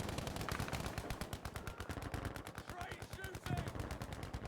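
Rapid automatic gunfire rattles in quick, evenly spaced bursts during a competitive shooter match, fairly quiet overall, with faint voices underneath.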